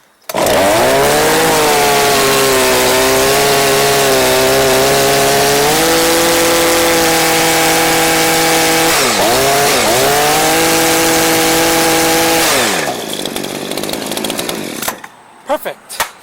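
A Redmax hedge trimmer's small two-stroke engine runs loud and close for about twelve seconds with a steady whine, dipping briefly in pitch once or twice before cutting out, followed by faint handling noises.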